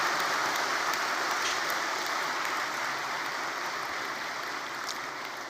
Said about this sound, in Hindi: आप सभी जोर से ताली बजा करके